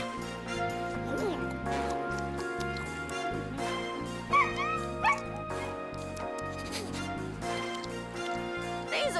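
A cartoon dog yips and whimpers in short bursts over a busy animated-show soundtrack of music, with brief louder yelps in the middle.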